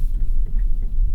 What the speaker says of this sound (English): You can hear the car working.